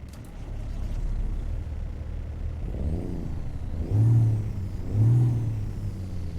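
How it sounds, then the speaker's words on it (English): A Cummins N14 diesel engine in a Kenworth T908 from American Truck Simulator cranks and starts, settling into a low rumbling idle with two deep revs rising toward the end. "The Cummins N14 will be the next one. And let's start that up."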